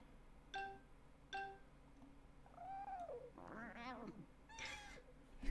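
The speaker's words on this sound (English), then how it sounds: "Things you can do with a cat on a computer screen." A cartoon kitten meows in a Windows 3.x computer game, two short chirpy tones followed by several longer, wavering mews, quiet and synthetic against a low steady background hum.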